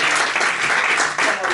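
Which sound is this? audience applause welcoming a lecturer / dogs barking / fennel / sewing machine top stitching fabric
audience applause welcoming a lecturer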